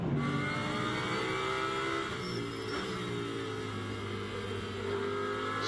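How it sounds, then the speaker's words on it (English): AF Corsa Ferrari GT race car on wet-weather tyres at Zandvoort, engine note loud and sustained with shifting harmonic pitch as it drives past on a damp track. "That's the AF Corsa Ferrari."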